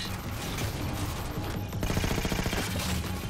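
Rapid gunfire in the Halo 4 video game, a dense sustained burst of shots that runs loud and continuous throughout, with rhythmic repeated cracks toward the end.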